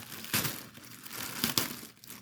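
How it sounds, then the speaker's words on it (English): A plastic bag crinkles and rustles close by in a couple of sharp bursts, with quieter handling between them and no talking. "Sorry for the crinkling, guys."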